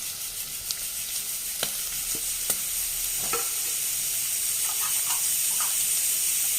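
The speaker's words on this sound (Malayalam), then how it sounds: "സവാളൊക്കെ നല്ലപോലെ വഴന്ന് വരണം" Sliced onions sautéing in a pan for a green peas curry, a constant bright hissing sizzle close by, with a few clicks and scrapes of the stirring spoon early on.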